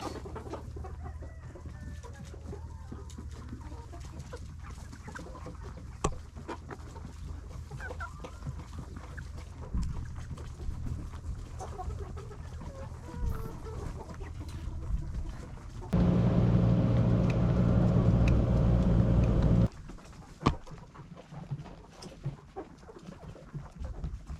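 Chickens clucking in a coop where laying nests are being set up, with scattered clucks and calls over a steady low hum, interrupted midway by a few seconds of loud droning machinery, then clucking again.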